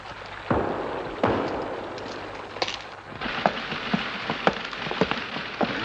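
Heavy rain pours in a war film scene, a dense steady hiss broken by sharp crackling bursts and pops.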